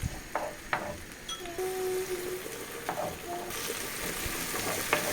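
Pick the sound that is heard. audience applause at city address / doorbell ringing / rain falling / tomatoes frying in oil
tomatoes frying in oil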